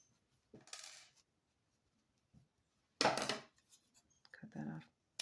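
Scissors snip off the yarn on a crocheted dish scrubbie: a few brief, close, crisp metallic cuts separated by quiet pauses.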